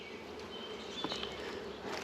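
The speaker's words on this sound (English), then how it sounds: "you get to see the enormous number of bees that are out there foraging for food" A steady, even hum of many honeybees foraging around a busy hive entrance, with a few louder buzzes as individual bees pass near.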